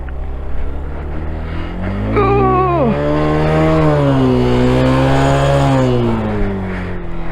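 A motorcycle engine strains on a steep uphill climb in Zanskar, Ladakh, its drone rising sharply in pitch, then dropping and holding a labored, wavering note before settling, loud and close, with no talking.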